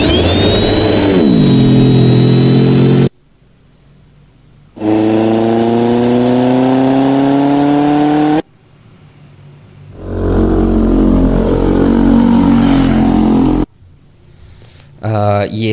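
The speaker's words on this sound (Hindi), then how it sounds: "ये हैवी बाइक वाली आवाज़ नहीं है, और हमारी है मोटर बाइक।" Motorbike engine sound effects in the CapCut editor play as separate bursts of revving and accelerating, with rising whining tones, each cut off abruptly by brief silences.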